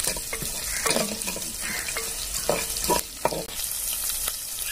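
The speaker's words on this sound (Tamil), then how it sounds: "ஸோ சின்ன வெங்காயம் நல்லா வதங்கணும்" Shallots sizzle steadily in a hot pan while a utensil stirs and scrapes at intervals, close and fairly loud.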